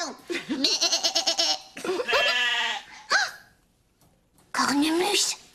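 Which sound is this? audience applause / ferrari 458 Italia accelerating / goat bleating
goat bleating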